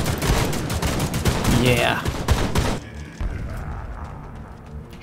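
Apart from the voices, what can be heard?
shotgun fire at close range in a video game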